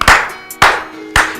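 A slow clap during a talk-show interview segment: three loud, sharp claps spaced evenly about half a second apart, each ringing briefly before the next, with no voices heard.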